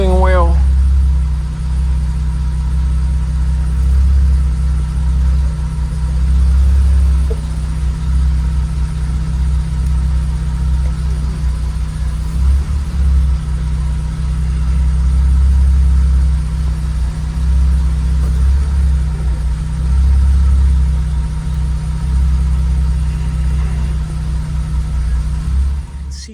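A Mercedes R107 engine runs at a steady, loud idle with a deep continuous rumble as the steering wheel is turned, with only slight changes in the drone throughout.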